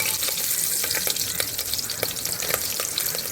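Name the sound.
green chillies frying in oil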